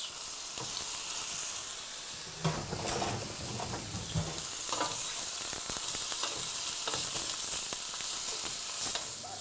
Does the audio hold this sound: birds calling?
no